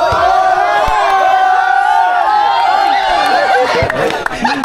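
A packed crowd at a ball game shouts and cheers loudly and continuously, with many voices yelling over one another close by for the whole stretch.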